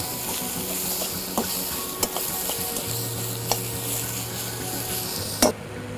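Pizza topping with chili left out sizzles steadily in an Ozpig pan on an outdoor wood-fired cooker, a continuous close frying hiss with occasional utensil clicks and stirring scrapes.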